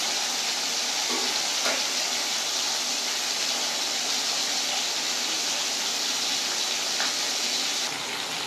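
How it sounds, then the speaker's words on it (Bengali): Pomfret fish frying in hot oil, a steady close sizzle and crackle running throughout with a few faint clinks, no talking. "প্রতিটা মাছ আমি লাল করে ভালো করে ভেজে নেব।"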